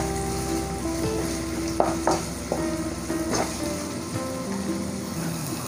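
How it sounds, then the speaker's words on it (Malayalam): Slit green chillies sizzling in hot oil in a pan for a Kerala-style pepper crab roast, a steady close crackle with a few sharper pops and stirring scrapes. "അതിൻ്റെ കൂടെ കീറി വെച്ചിരിക്കുന്ന പച്ചമുളക് കൂടി ഇട്ട് ഇതൊന്ന് നന്നായിട്ട് മൂപ്പിച്ചെടുക്കാം"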